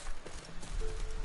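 A horse's hooves clip-clop in The Witcher 3, a brief, quiet patter of steps in the game world.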